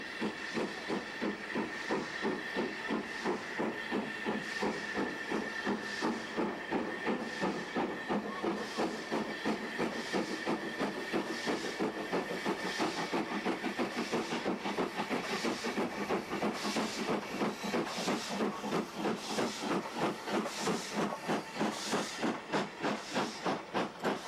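A preserved steam train on the Keighley and Worth Valley Railway pulls into a small station, with a steady hiss of steam and a fast rhythmic chuffing that continues at moderate loudness for the whole stretch.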